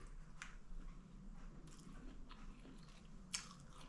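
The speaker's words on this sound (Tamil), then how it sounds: "இன்னொரு வாய் கூட உங்களுக்காக நான் சாப்பிட்றேன்" A bite of soft, spongy yogurt dosa is chewed close to the microphone, with quiet moist chewing and a few brief sharper bite sounds in a calm room.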